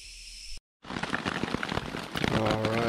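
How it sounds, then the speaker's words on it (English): Rain falling at night during a bike tour in Japan, a steady broadband patter after a brief silent gap, continuing as a dense wash with some closer drips toward the end. "Alright, here's that rain, huh?"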